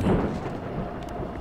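A low rumble of thunder rolls under steady rain in GTA 5, a continuous dull roar with no voices.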